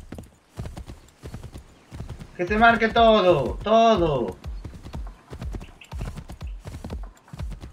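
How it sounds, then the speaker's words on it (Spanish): Horse hooves gallop across ground in Assassin's Creed III, a fast rhythmic clip-clop running throughout, while a voice in Spanish talks over the middle and a horse whinnies briefly. "Pasa que estos caballos son peores que los otros."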